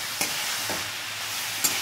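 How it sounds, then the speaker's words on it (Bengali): Cauliflower bharta with a little turmeric fries in a pan, a steady close sizzle broken by three short scraping strokes as it is stirred. "এবার আমি এটা নেড়ে নিচ্ছি"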